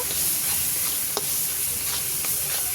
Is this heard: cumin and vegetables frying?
yes